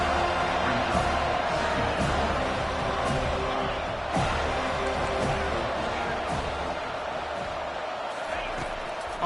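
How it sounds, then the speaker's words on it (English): A home crowd in a college football video game roars in a dense, continuous wall of cheering that stays loud throughout, with scattered whoops rising above it. "how nice is it to have the home crowd going absolutely bananas?"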